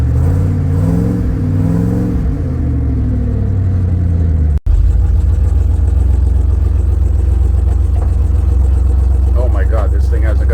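A 1979 Ford F250 pickup with a 351M V8 engine is revved with the throttle floored while the truck has a lack-of-power fault. A loud close engine roar rises and holds after a short pause, with some voices over it early on.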